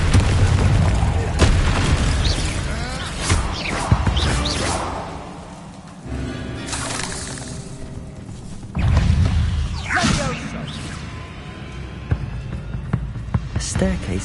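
Confringo spell blasts in Hogwarts Legacy, heavy booming impacts with whooshes, loud and repeated through a busy fight, with a voice speaking between them.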